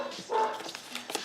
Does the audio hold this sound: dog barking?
yes